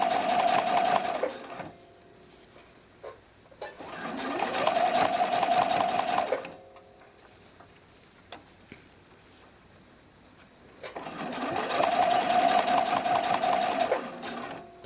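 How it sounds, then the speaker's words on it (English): Sewing machine stitching the cradle of a bralette in three loud bursts of rapid, steady stitching, separated by quiet pauses with faint handling sounds. "Let's backstitch a little bit."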